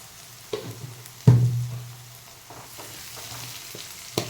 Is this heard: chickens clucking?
no